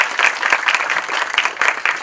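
Audience applause greets a guest at a state-level astronomy enthusiasts' conference, a steady wash of many hands clapping at close range throughout, with no talking over it.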